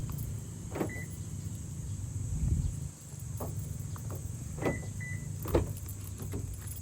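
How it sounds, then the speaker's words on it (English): A 2023 Toyota Fortuner 2.8Q being locked with the key fob button gives a few faint clicks and a short electronic chirp from the car, quiet and a little distant over a steady background hum. "if you want to lock it, just press the button."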